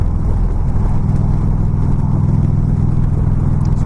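A motorcycle engine rolls on in sixth gear, its loud, even drone running steadily with road and wind rush beneath it the whole time.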